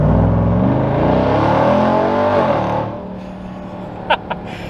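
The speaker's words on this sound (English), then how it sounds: "here's another pull with the microphone faced towards the supercharger" Ram TRX supercharged engine pulls hard with the rear window open, a loud rising roar and supercharger whine that climbs for about three seconds, then drops off abruptly to a lower idle with a couple of brief clicks.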